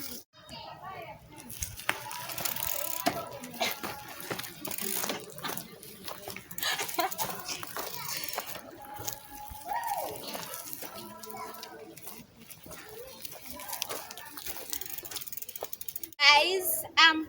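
A bicycle ridden along the Oloolua Nature Trail in Karen, Nairobi, gives off intermittent mechanical ticking and ratcheting over a long stretch of riding, mixed with voices and children's chatter nearby.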